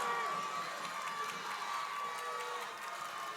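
A college men's basketball crowd cheering and shouting in a loud gym, a continuous roar of voices that holds steady for a few seconds with no clear commentary over it.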